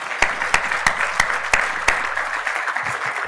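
Audience applause closing a medical panel discussion on dual-mobility hip prostheses: a steady wash of clapping from a room of listeners with a few louder, sharper claps punctuating it, moderately loud and unbroken throughout, with no talk.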